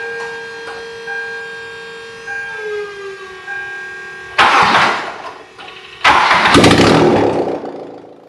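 A naturally aspirated Toyota MR2 Spyder engine cranks for its first start, with a loud starter whir and engine bursts catching near the end over a steady tone, and no talking.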